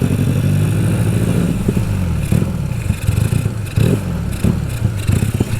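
A Yamaha Vega R 200 cc two-cylinder motorcycle on a test ride, its engine droning steadily up close with rough throttle surges and intermittent clattering bursts over constant wind and road noise.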